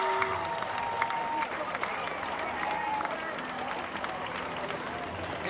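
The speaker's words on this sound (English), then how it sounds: "Let's give them a big round of applause." Crowd applause from onlookers lining a street parade, a dense steady wash of clapping and cheering that fills the clip, with a public-address voice and music mixed in underneath.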